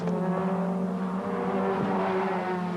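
1980s BTCC touring race cars roar past on track in a continuous, droning engine rush with no voices.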